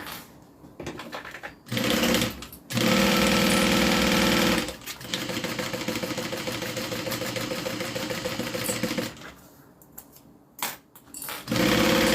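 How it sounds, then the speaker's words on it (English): A sewing machine stitches a zip around a small leather wallet in several close, loud runs of rapid mechanical whirring, broken by short pauses and a longer steady stretch in the middle. "So it's on the very edge, and then I'm going to be sewing below that."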